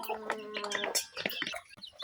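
Chickens cluck and squawk at close range on a small backyard farm as they are let out to feed, a busy overlapping jumble of short calls with some higher chirps.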